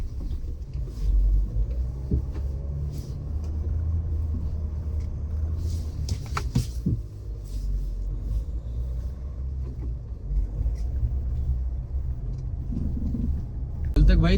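A Suzuki Jimny rumbles along a snowy mountain road, its engine and road noise a steady loud low drone throughout, with someone talking over it.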